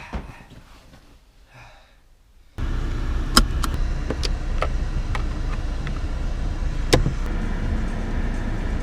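A car heard from inside, moving on the road after returning home, with a steady low engine and road rumble. A few sharp clicks and taps sit over the drone after a quieter stretch at the start.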